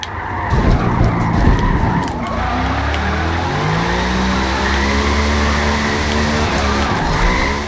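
Tires screech and skid continuously as a 2018 TVR Griffith drifts in the Forza racing game, with a loud engine droning beneath the squeal throughout.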